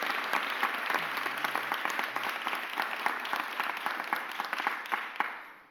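Crowd at a mayor's budget press conference clapping, distinct hand claps forming a steady round of applause that holds evenly and then thins out and fades at the close.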